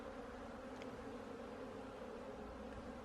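A steady, dense buzz of many honey bees at an apiary hive in autumn fills the clip continuously, a close, even hum with no pauses.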